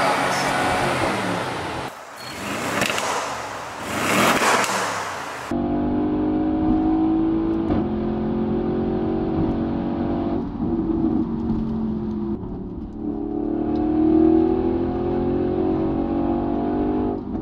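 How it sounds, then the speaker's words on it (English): An Audi RS6 C7 with its twin-turbo V8 and stock exhaust revs from inside the cabin, first a couple of sharp surging blips, then a steady droning hum that swells and eases as the car pulls along. "So I've just tried out the RS6 with the stock exhaust"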